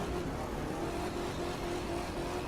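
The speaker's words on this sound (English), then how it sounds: "Listen to the engine." A Ford limousine's engine in The Crew 2 racing game drones at steady high revs, a loud continuous roar with a constant tone and no break.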